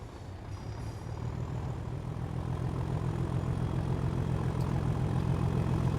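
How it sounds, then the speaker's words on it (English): Class 37/5 diesel locomotive from Train Sim World 5 growls steadily with a deep, throbbing low rumble that builds slightly louder over the few seconds, close and continuous with no talking. "What really made the Class 37 and the 37-5s legendary was that unmistakable growl."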